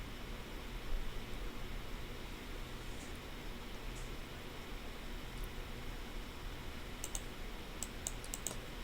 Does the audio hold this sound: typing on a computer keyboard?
yes